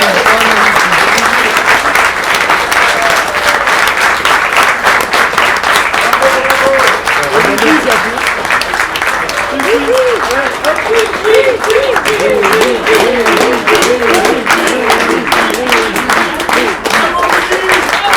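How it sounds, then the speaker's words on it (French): Audience applause fills a small venue after an autism theatre troupe's show at a museum, steady and loud throughout, with voices talking over the clapping. "On applaudit aussi notre caméraman"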